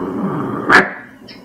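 A man imitates a dog with his voice, making a short, loud growling bark that peaks once and fades, against steady background noise.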